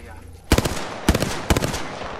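Rapid bursts of automatic gunfire in the battle royale shooter Apex Legends, three sharp loud volleys about half a second apart, close and punchy over faint game ambience.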